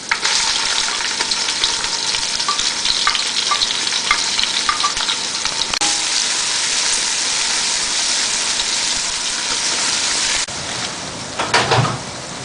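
Onions hitting hot oil seasoned with ginger, whole garam masala and salt for nihari, a loud close dense crackling sizzle that holds steady, then drops briefly before a final stir.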